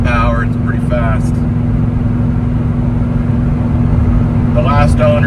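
A pickup truck fitted with headers, straight pipes and chrome exhaust tips cruises with a constant low engine rumble, while someone speaks briefly at the start and end.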